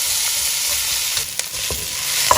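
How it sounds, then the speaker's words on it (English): Loud, continuous sizzling of onions frying in a hot cast-iron potjie pot over a braai fire, with a few faint clicks and stirring scrapes. "Just listen to that lovely sizzle of the onions inside this pot."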